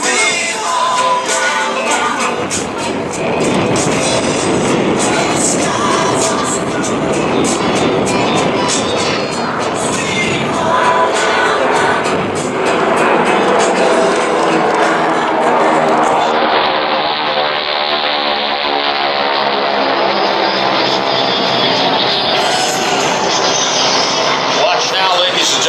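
GEICO Skytypers airshow planes approach head-on at the Wings Over North Georgia Airshow, a loud, sustained propeller-engine roar that swells and shifts pitch as they pass, with a voice talking over it.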